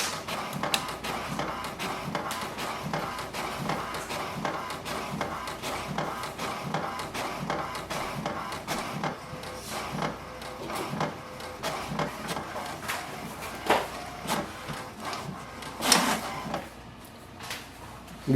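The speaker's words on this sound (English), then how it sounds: "It will print a printer alignment page." Steady mechanical whirring with rapid repeated clicks and shuttling strokes from an HP DeskJet 2942 inkjet printer printing an alignment page continuously at close range, no voices.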